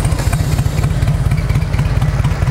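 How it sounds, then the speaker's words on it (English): A 2003 Harley-Davidson Road King FLHR with a carbureted engine and fishtail exhaust tips idles loudly and close by, its steady, slightly loping low rumble pulsing evenly throughout. "I like the way a carbureted bike sounds. It still has that little bit of a lope to it."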